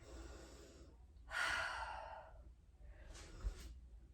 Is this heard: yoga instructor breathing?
yes